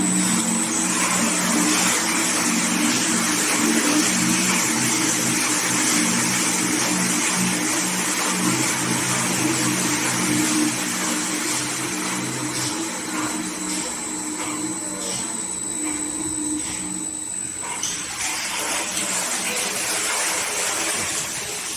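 A 1000L fixed external-circulating vacuum homogenizing mixer runs with a steady loud motor whine and broadband whir, a faint tone shifting slightly as it speeds up, with no talk.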